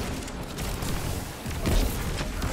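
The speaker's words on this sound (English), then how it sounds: "I'm gonna throw another nade in there." A grenade blows up in a video game firefight, a dense, noisy burst with a low boom peaking about two-thirds of the way through over continuous game noise.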